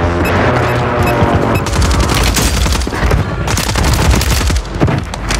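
Welgun submachine gun firing in Call of Duty Warzone on Rebirth Island: loud, sustained rapid automatic bursts with dense cracking shots and booming echoes throughout.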